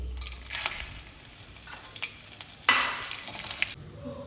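Dried red chillies, bay leaves, cardamom, cloves and cinnamon hit hot oil for tempering, giving bursts of sharp crackling sizzle with a louder, sustained spitting surge near the end, close and with no talk.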